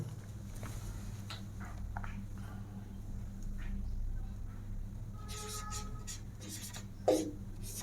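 Chalk or marker writing a Hindi grammar rule on a board, soft intermittent scratching strokes with short pauses, quiet and close, with a brief thump near the end.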